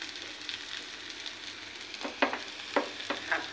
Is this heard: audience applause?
no